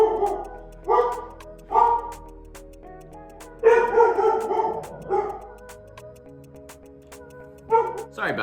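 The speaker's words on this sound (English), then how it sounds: "As per usual, my dog interrupted my video." A pet dog barks repeatedly indoors, loud and close, in sharp bursts spaced about a second apart with a longer run of yips and whines in the middle.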